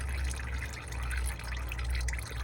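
Thick, black old motor oil drains from a 2003 Honda Accord 3.0L V6 during an oil change, a steady liquid trickle and pour over a low constant rumble, with no talk.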